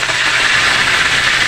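Curry leaves and mustard seeds sizzle in hot oil for a spicy misal, a loud, steady, close hiss of frying with no voices.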